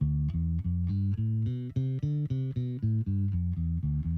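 A plucked guitar plays a steady run of evenly spaced notes, stepping through a D Dorian scale at a moderate pace with no talking.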